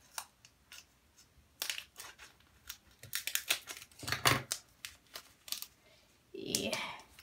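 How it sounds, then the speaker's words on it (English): Scissors snip open a foil Pokémon card booster pack on a wooden table, a series of sharp close cuts and crinkles, followed by rustling of the pack. "Might need some scissors for this."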